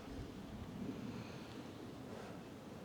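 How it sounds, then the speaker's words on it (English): Gentle sea waves lapping on a beach near fishing boats on a calm, nearly windless day, heard as a soft, steady, low wash with no talk. "Sound of the ocean, so calming."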